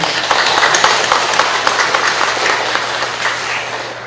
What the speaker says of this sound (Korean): 오늘 이 시간 우리 모두 다 같이 하나님께 영광의 박수 올리겠습니다